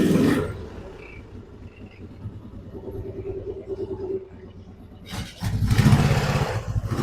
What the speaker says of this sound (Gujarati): આ ગાડી જે ચાલુ કરે છે એનું ફાયરિંગ હું તમને બતાડું.